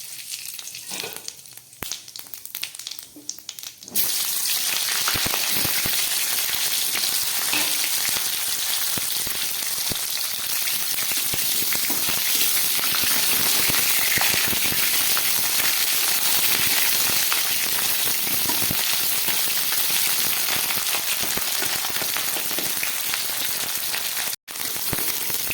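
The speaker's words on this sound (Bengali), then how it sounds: "এবার আমি দিয়ে দিচ্ছি এর মধ্যে একটু সাদা জিরে ফোড়ন আর দিয়ে দিচ্ছি একটু তেজপাতা।" Whole cumin seeds and a bay leaf hit hot oil in a pan, bursting into a loud, steady, crackling sizzle after a brief quieter opening, continuing unbroken and close up with no talking.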